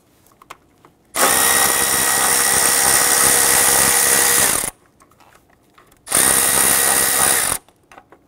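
A power tool loosens 10 mm bracket bolts on a 2005-2011 Nissan Frontier 4.0L V6 during ignition coil work, running in two loud, steady bursts of about three and a half and one and a half seconds with quiet gaps between.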